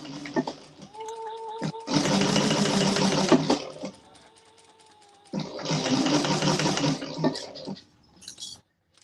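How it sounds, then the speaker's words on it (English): A sewing machine stitching a bag flange in two bursts of rapid, even mechanical whirring, each about two seconds long, separated by a quieter pause with light handling noises. "Brenda, I'm sewing the Regina flange."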